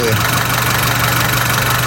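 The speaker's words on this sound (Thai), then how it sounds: "ติดเครื่องเปิดแอร์ไว้เรียบร้อยนะฮะพี่ๆก็ลองฟังเสียงเครื่องยนต์ดู นะครับ เครื่องยนต์ R20A" A 2015 Honda CR-V with the 2.0-litre R20A engine idles with the air conditioning running, giving a loud, close, steady hum with a low, even rumble throughout.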